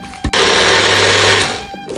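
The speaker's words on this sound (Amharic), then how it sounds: "ፈጫው ነው።" A kitchen blender grinding beans, tomato, avocado, lemon and garlic roars loudly and steadily for over a second after a brief start, then winds down.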